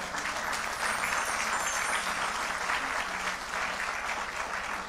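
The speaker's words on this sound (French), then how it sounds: "On peut acclamer très fort." Loud, sustained applause from a church congregation fills the whole stretch, a dense steady wash of clapping with a few faint voices mixed in.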